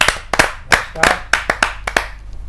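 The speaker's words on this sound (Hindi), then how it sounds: "जोरदार तालियों से आमंत्रित कीजिए अशोक शर्मा जी" Sparse, distinct hand claps from a small audience at a Hindi kavi sammelan welcoming a poet, around a dozen sharp claps in an uneven rhythm, close and clear.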